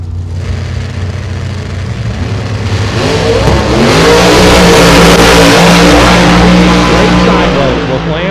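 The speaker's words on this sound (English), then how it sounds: "So you hear the car spooling up there, Kahele and LaFlamme." A Pro Charger drag racing car engine spools up and revs, rising from a low rumble to a loud, sustained roar with climbing pitch, under a commentator's voice.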